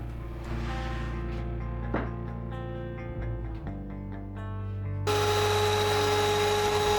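Power tool cutting a scrap piece of pallet wood for a three-legged shop stool, a steady whine broken by a few cutting changes before a louder, brighter buzz takes over near the end.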